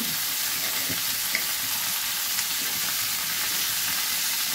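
Shukto vegetables being sautéed with turmeric and spices in a pan give a steady, close hiss and sizzle of frying throughout, with faint scraping of stirring and no talk.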